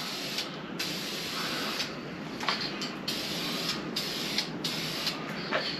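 A can of Duplicolor Metalcast Blue spray paint hisses in a string of short, close bursts while painting valve covers for a 1977 Ford F150, with brief pauses between light coats.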